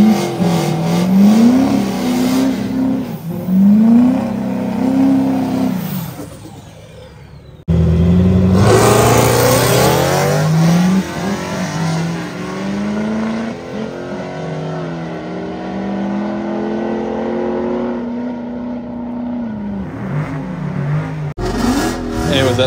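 Diesel Duramax-swapped truck with its wastegate clamped shut accelerating hard, engine note rising through gears in long loud pulls, a brief drop between shifts, then climbing again.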